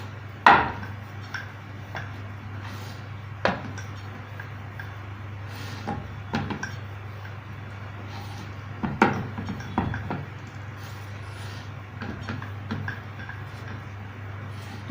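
A rolling pin works wheat parotta dough thin on a board, with sparse wooden knocks and light clicks scattered irregularly over a quiet room hum.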